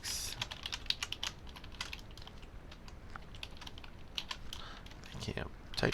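Quiet, irregular clicks of a computer keyboard, typed in short bursts with brief pauses, heard close and fairly soft.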